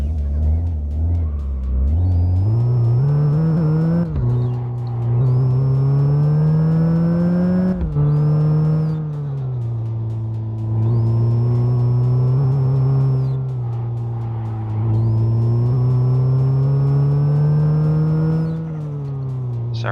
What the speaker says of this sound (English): It's our first time actually driving a car in this series.